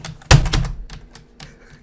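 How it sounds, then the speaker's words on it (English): Hard, heavy keystrokes on a computer keyboard, a loud thump followed by scattered sharp clacks and taps, close and alone. "I hear your keyboard. It sounds like you're like about to smash it."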